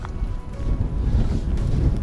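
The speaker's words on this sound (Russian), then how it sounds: "Сильный ветер." Strong wind buffets the microphone in a continuous low roar that thickens and grows louder after the first second, with no voices.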